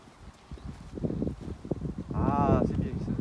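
Horse hooves clip-clop in a loose, uneven rhythm at moderate distance, with people talking over and around the steps and some wind noise.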